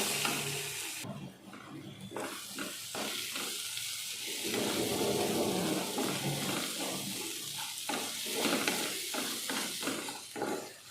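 Grated mango with turmeric stirred in a frying pan: a continuous sizzle with repeated scraping strokes of a spoon against the pan, fairly close and moderately quiet, with no talking.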